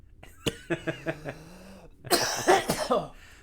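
A string of short, raspy coughs in a row, fairly quiet at first, then louder hacking coughs near the end, with no talking.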